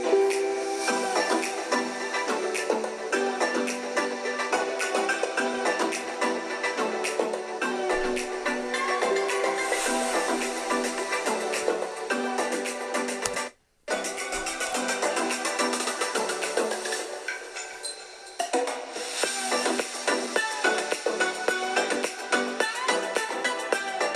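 Music playing through the downward-firing speakers of an Alienware M17 R5 laptop at 80% volume, loud and continuous with thin low end, briefly cutting out about halfway before resuming, and no talking.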